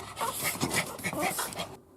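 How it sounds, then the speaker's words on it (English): A dog whimpers and pants eagerly, begging for food in a kitchen where rabbit and morel mushroom pot pie is being cooked; steady close breathy whines run throughout, then stop abruptly at the end. "I guess the dogs want it."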